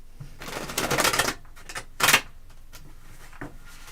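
Tarot cards being shuffled by hand: a burst of riffling, flapping card noise, then a second short riffle and a few soft taps, close and fairly quiet with no talk.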